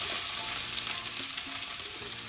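Shrimp roast ingredients sizzle steadily in a hot pan, a dense continuous frying hiss with small crackles and the occasional stir, close and alone with no voices.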